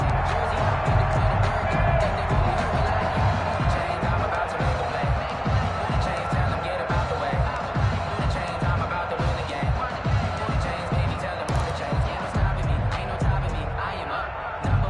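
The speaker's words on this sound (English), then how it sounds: "The crowd getting into it as we come up on a big third down." Stadium crowd in a PS4 American football game, a continuous roar of cheering spectators that stays steady for fifteen seconds beneath a commentator's voice.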